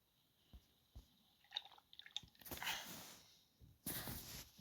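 Water being drunk in the pirate survival game Last Pirate: a few soft clicks and drips, then two bursts of splashy liquid gulping.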